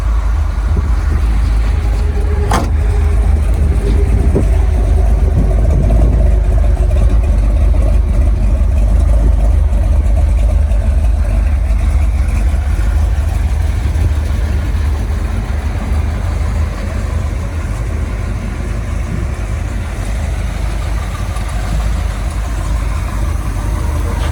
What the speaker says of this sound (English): Let's let it idle a couple more minutes.